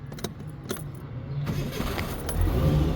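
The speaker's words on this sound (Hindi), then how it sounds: "ज़रा गाड़ी स्टार्ट करके देखते हैं अभी स्टार्ट होती है नहीं होती" A car engine cranking and catching after doubts it would start, with a few clicks at first, then a steady rumbling idle that grows louder toward the end.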